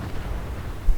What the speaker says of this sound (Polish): Wszystko wybucha.